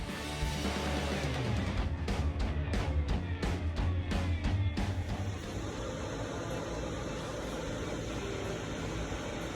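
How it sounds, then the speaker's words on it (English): MIG welding on the floor pan of a 1966 Mustang: a run of short crackling bursts, then a steady, close, buzzing hiss that carries on to the end. "Let's get some welding done."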